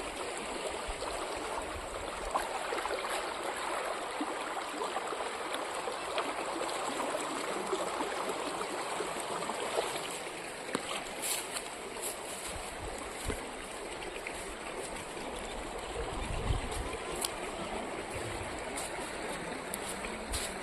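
Steady rushing water of the Sutlej River near Dharamkot, Moga, flows continuously, a broad even wash of sound with occasional faint knocks, no voices.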